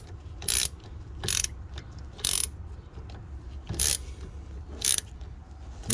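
A ratchet clicks in five short bursts at an even rhythm, tightening bolts on the rear brakes of a 2016 Toyota RAV4 XLE AWD, close and loud with quiet gaps between.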